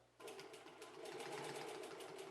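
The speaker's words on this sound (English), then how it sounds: "I'm just sewing these straps down" A sewing machine stitches straps down on a handmade range finder pouch, a rapid steady mechanical chatter starting abruptly and running close and continuous for a couple of seconds.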